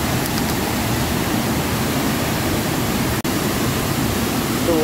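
Rushing roar of the Pa Ba waterfall, its water murky and plunging steeply, heard up close as a steady, loud, broadband wash with no pauses and no voices.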